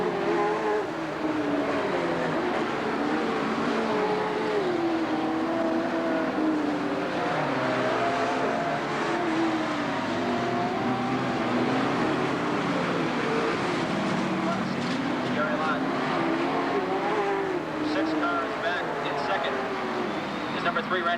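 Sportsman stock cars race around a dirt oval at a 1990 EWSCA feature. Their engines blend into a constant, loud roar that rises and falls as the cars circle the track, while an announcer calls the race over the noise.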